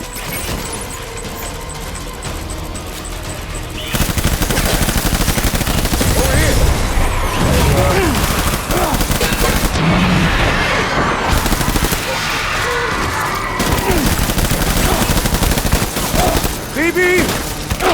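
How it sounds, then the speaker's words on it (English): Soldiers firing in a battle in Death Stranding, loud sustained bursts of automatic gunfire and booms that run on for many seconds, with shouted voices breaking through the din. "Open fire."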